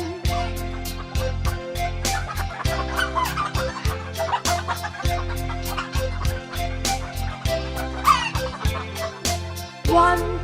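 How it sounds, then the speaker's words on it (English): A hen clucks in repeated short bursts as a sound effect within a bright, rhythmic 3D nursery rhyme song, set against steady music and a beat. "9, 10, cluck, cluck, cluck. 9, 10, a big fat hen."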